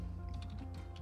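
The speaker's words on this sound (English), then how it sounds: "If you hear me typing in the background" Faint, steady typing on a computer keyboard gives soft, irregular clicks spread across a brief moment against a low background hum.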